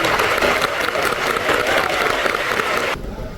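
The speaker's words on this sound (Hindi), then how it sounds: "ऐसे हमारे प्रवीण जी चंदन सर के लिए एक बार जोरदार तालियां." An audience in Mumbai's Shanmukhananda Auditorium applauds at a business event. Loud, dense, continuous clapping fills the hall and drops off sharply just before the end.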